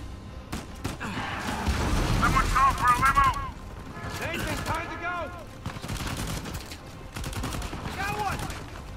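Rapid bursts of gunfire in Uncharted 4, sharp cracks in quick clusters up close, with voices talking over parts of the shooting and short pauses between volleys.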